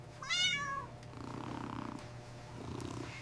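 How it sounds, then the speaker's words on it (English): Several kittens, one sharp rising meow up front followed by soft, steady purring close by, quiet and continuous. "it's just a lot of kittens at once."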